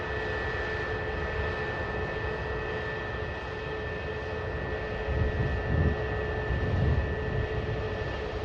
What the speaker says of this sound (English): And the EasyJet for Amsterdam now finally on the move.